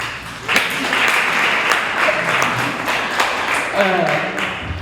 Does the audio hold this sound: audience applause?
yes